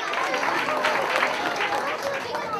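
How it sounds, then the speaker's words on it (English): A crowd gathered at a Chicago church feast applauds preschool children, steady clapping sustained throughout with voices mixed in. "Can we give them another round of applause?"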